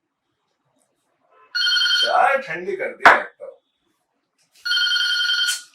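A telephone rings in two bursts of a steady electronic trill, separated by someone talking and a sharp clatter.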